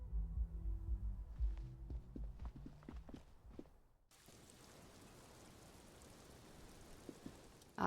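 Steady rain in the video game Disco Elysium, a dense, even hiss that sets in abruptly halfway through and continues alone at moderate level after earlier low thumps and music-like tones.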